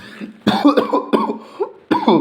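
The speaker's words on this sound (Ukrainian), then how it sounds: "Цей цей кашель ужас" A few harsh, close coughs in quick succession, with a short pause before a final burst of coughing.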